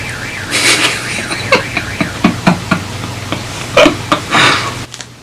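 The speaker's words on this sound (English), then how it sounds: "There's a car alarm going off." A car alarm sounds in the distance, its warbling tone cycling through repeated pulsing patterns over steady background noise.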